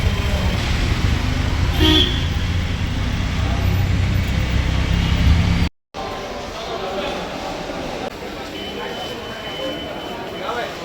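Auto rickshaw riding through dense traffic in India, with steady loud engine and road rumble, horns tooting here and there, and brief speech over the din. A short dropout occurs midway, then quieter traffic noise continues.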